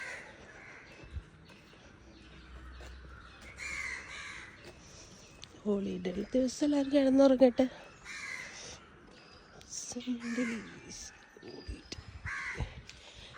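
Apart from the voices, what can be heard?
crows cawing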